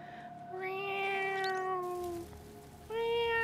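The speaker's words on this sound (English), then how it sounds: "Sam, I'm a cat" A cat in the video game Stray gives a long, drawn-out meow, followed after a brief pause by the start of another clear, close meow.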